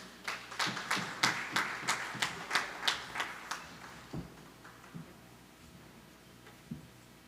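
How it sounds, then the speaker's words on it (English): Crisp, evenly spaced claps ring out in a quick steady rhythm for about three seconds at a town hall meeting on disaster mitigation, then thin out into a few scattered faint claps. "Give her a round of applause"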